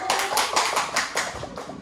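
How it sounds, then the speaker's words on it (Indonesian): A small classroom audience of teachers claps briefly for a presenting group, producing a few loose, fairly distinct bursts of handclaps close by. "beri tepuk tangan untuk kelompok 1"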